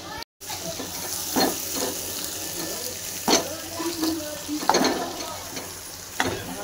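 Potato pieces frying with chilies as they are stirred in a pan, with a soft sizzle, intermittent scraping strokes and a few sharp clinks of a utensil, close by and without talk.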